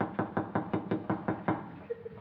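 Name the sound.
knocking at the door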